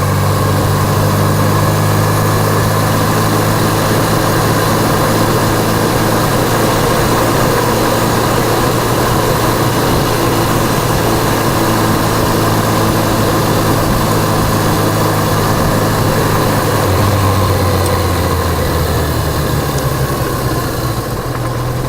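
Motorcycle engines on the road, a loud, steady engine drone with low rumble and vibration throughout, the pitch holding and then dropping near the end, with no voices.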